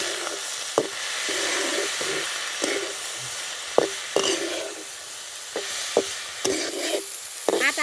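Onion frying in a pan with soaked kurdai (dried wheat fritters) added, a steady sizzle under repeated scraping stirs of a spoon, close and fairly loud, with no talk.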